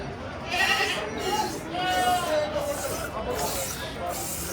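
Wavering goat bleats rise and fall amid the bustle of a busy goat market in Chengicherla, with people talking nearby.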